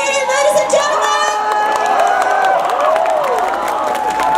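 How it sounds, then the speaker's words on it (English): Crowd at a rock band competition's winner announcement in India cheers, whoops and applauds continuously, with children shouting and loud voices mixed throughout the dense, sustained roar. "Round of applause for Donald Pavey, ladies and gentlemen."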